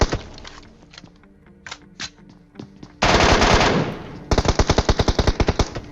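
Rapid bursts of MK14 rifle fire in PUBG: after a few scattered single shots and faint clicks, a loud sustained volley breaks out, then a fast string of evenly spaced, punchy shots runs to the end, with no talking.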